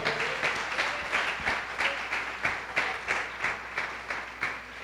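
A church congregation applauds during a service, rhythmic clapping with steady beats at a regular pace, moderately distant and without talk.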